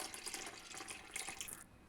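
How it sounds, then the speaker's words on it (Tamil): Tamarind juice poured into a pot of fish curry, a steady liquid splash and trickle that runs close and fairly loud for over a second and a half before stopping abruptly. "அந்த புளி சாறு சேர்க்கலாங்க."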